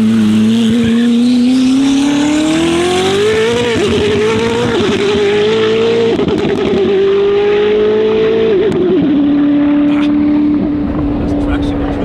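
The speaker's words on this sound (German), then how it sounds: "Der Motor dreht hoch in einer Art und Weise" A powerful Koenigsegg sports car engine revs up through rising pitch, shifts and pulls hard, loud and close, with a voice briefly underneath.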